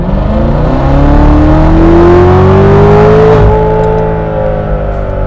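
Loud, close engine of a C7 Corvette revving in third gear, pitch climbing smoothly under load for a few seconds before easing off and settling, no talking.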